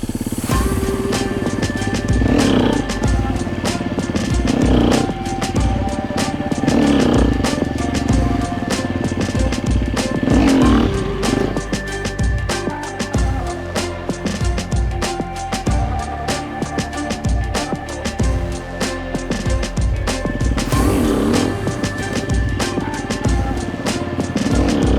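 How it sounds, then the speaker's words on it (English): An XR150 dirt bike engine revs hard through repeated clutch-pop wheelies in first and second gear, loud and close, with rising bursts of throttle and some clattering between pulls, no talking. "So I did some wheelies. I did them in first and second gear"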